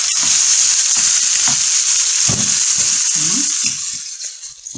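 Tomatoes fry in oil in a pan in an Egyptian home kitchen, giving a loud, steady sizzle throughout with a few clinking stirs and scrapes breaking through.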